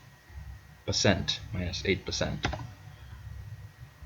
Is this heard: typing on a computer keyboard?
yes